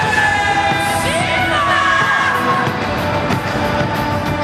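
Huge arena crowd at Pride Shockwave 2002 roaring and cheering as fighters are introduced, a dense sustained wall of yells and whoops with tonal announcer-style sweeps riding over it, loud and unbroken throughout.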